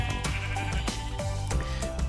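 A Minecraft sheep from the Yogscast Complete modpack bleats in a few short, wavering calls in quick succession, clear and close against faint game background with no talk.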